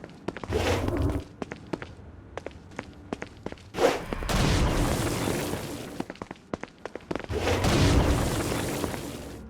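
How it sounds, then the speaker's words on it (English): Stone Blast attacks exploding against flying demons in the video game Saints Row: Gat out of Hell. A sharp burst is followed by two long, rumbling booms, with quick tapping steps and clicks between them. "Stone Blast is especially useful on flying demons like this one."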